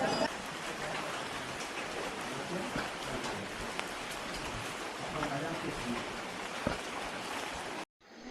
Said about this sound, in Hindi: तो बारिश हो गई तेज